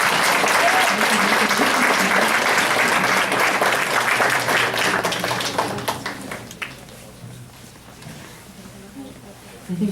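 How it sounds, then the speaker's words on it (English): Loud audience applause rings out at a Board of Education meeting after a first-place award winner is announced, dense clapping that holds strong, then thins and fades out near the end, with talk underneath. "Please a nice round of applause."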